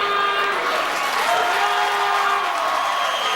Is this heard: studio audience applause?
yes